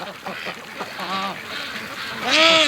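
Free range ducks on a lake give a few close, nasal quacks in scattered bursts, ending in a louder harmonic call, with birdlike calls over faint background noise.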